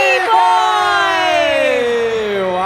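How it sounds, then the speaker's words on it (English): Crowd at an esports tournament cheering and whooping loudly in a sustained roar, rising voices sliding downward in pitch, filling the whole stretch without a break. "We're getting a lot of cheers from the crowd."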